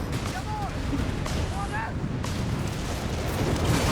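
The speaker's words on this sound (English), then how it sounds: "rockets coming down from above here, impacting onto Stephenn's positions" Rocket artillery crashes down on positions in the Company of Heroes 3 battle, a dense, continuous roar of blasts and rumble with a voice talking over it throughout.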